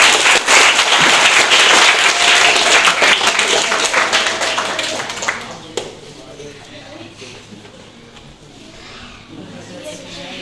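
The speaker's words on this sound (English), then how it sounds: "we should all give a very big round of applause to him" An audience at a school anti-addiction campaign event at Delhi World Public School, Barasat, claps in a loud, dense round of applause. The clapping fades after about six seconds and a voice carries on over the quieter room.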